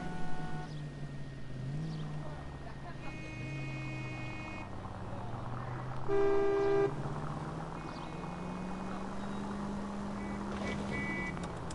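A car in the video game L.A. Noire drives along with a steady engine drone, its pitch rising and falling, while car horns toot in short bursts over the traffic.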